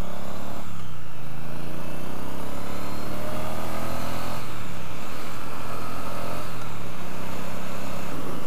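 A Triumph Bonneville T100 motorcycle engine runs steadily while riding, a continuous loud droning rumble with a few shifts in pitch as it accelerates and changes gear, with wind noise over it.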